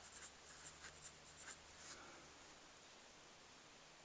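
Handwriting, probably pen on paper, during an accounting lesson: faint soft scratchy strokes in short bursts over the first two seconds, then near silence.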